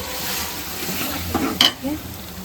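Chicken coated in ginger garlic paste is stirred and fried in a pot while making chicken dum biryani: a low, steady sizzle under a few brief scraping stirs and soft clinks.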